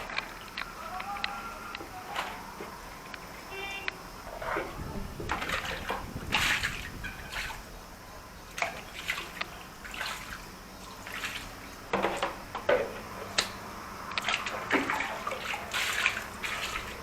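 Fish being washed by hand in water for a fish curry: close sloshing and splashing with irregular bursts of dripping and pouring, plus scattered faint clatter in the background.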